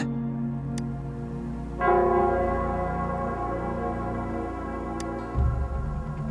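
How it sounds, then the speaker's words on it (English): A large bell tolls in Nell Square in the video game Wuthering Waves, with a loud, resonant strike that rings out and lingers, followed by a second deep stroke near the end over a low ambient drone. "it's the Nell Squares bell."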